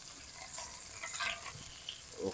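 Beef short ribs sizzle and crackle as they brown in a hot pan, a close, continuous frying hiss with irregular spitting pops and small bursts, heard alone without talking.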